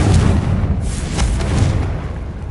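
A Confringo spell blasts in a Harry Potter video game, a loud, deep explosive boom with a rolling low rumble that lingers and fades over a couple of seconds.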